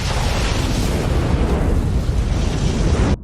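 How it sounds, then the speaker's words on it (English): A huge explosion set off with a flare in a vampire film roars as a dense, sustained blast of rumbling noise filling the whole clip, then cuts off abruptly near the end. "He uses a flare to create an explosion, hoping to take out as many as he can."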